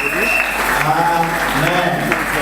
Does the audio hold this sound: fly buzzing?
no